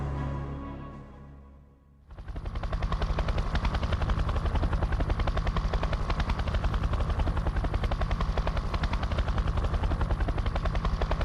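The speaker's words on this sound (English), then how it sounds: "an RAF helicopter dropped 8 SAS men over 180 miles behind enemy lines" An RAF helicopter flies close and loud, a steady rapid rotor thump swelling in after a quieter opening moment and then holding constant.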